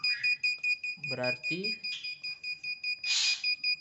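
A water-level monitoring buzzer beeps rapidly and steadily in quick repeating pulses, while someone talks over it.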